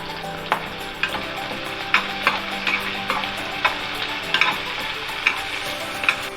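Chopped onion fries in oil with turmeric and asafoetida for a jowar-bajra ukadpendi, a steady close sizzle broken by regular spoon scrapes and taps against the pan.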